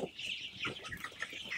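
Month-old broiler chickens on a poultry farm cluck in short, overlapping bursts at close to moderate distance, several birds calling over a faint background.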